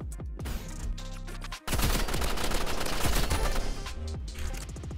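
Rapid Uzi submachine-gun fire in the Roblox shooter Rivals, loud bursts of automatic shots over steady game music, with a short pause before a dense continuous volley.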